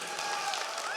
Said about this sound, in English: round of applause again for SungWon.